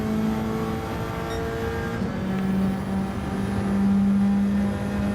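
A Gran Turismo 7 race car powers down a long straight, its engine holding a steady, tonal drone that swells and climbs in pitch as it accelerates, with no talking over it.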